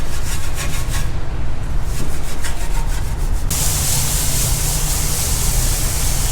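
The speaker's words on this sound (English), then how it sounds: "using the Easy Detail brush, and this is something that's allowing you to get into the barrels" An Easy Detail brush scrubbing the brake-dust-caked wheel barrels of a BMW F80 M3 during a wash gives a steady, close, continuous rubbing and scraping, with a rhythmic stroking texture in the first half that turns into a dense hiss.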